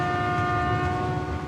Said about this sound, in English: They need to clear their machines off the track fast so Jordy and Tom's train can pass.